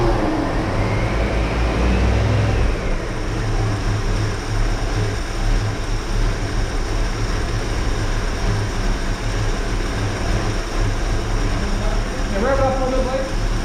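A 1983 Ford Mustang GLX convertible engine runs with a steady, loud rumble that swells briefly in a rev near the start, then settles into an even idle, with people talking nearby.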